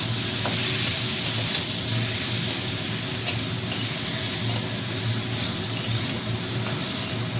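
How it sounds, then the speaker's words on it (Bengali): Potato pieces fry with cumin powder and chili in a pan for a bitter gourd and fish curry, giving a continuous dense sizzle close by with occasional light stirring clicks, alone without speech. "আবারও মশলা সমেত আলুটাকে ভেজে নেব।"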